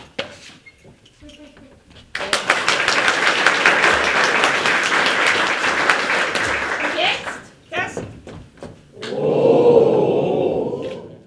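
Theatre audience at a Upper Franconian dialect theatre day bursts into sustained, loud clapping on cue for about five seconds after a brief opening clap, then scattered claps and a few spoken words, followed by murmuring crowd noise.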